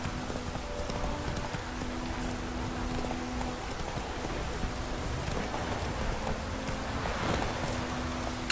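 Rain pours steadily in The Witcher 3: Wild Hunt, a continuous wash of falling water mixed with horse hooves clip-clopping and faint distant rumbles, with no talk over it.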